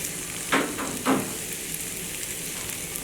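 Three chopped green chilies fry in hot oil for spicy puli pitha, giving a steady close sizzle with two short, louder stirring bursts early on.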